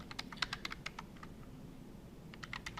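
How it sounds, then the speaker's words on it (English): Quiet clusters of quick calculator button presses, a pause, then a few more taps, close by in a hushed room. "let's just start typing in our X values"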